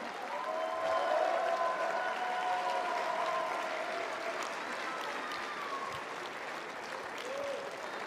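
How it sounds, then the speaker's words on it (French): Stadium crowd at Roland-Garros 2025 applauding tennis player Nicolas Mahut during a tribute ceremony, a steady dense wash of clapping that holds for several seconds, with faint tonal sounds mixed in. "on peut applaudir encore une fois bien fort Nicolas Mahut."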